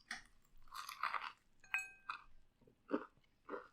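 Crunchy bites into a thick chicken sandwich patty, close to the mic, arrive as several separate crackling crunches spread over a few seconds with short pauses of chewing between them.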